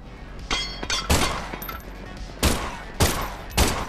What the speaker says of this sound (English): Let me show you how to shoot.